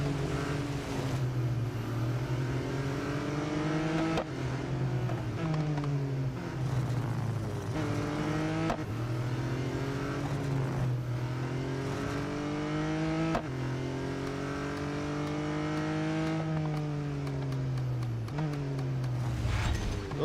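A race car engine in the mobile racing game Real Racing 3 drones continuously, its pitch climbing through each gear and then dropping at every shift, with a few deeper drops under braking, loud and steady throughout.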